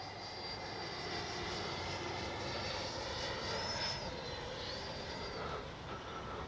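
An RC jet plane at about a third throttle flies in to land with gear down, giving a steady, moderately distant turbine whine and rushing roar that swells slightly midway.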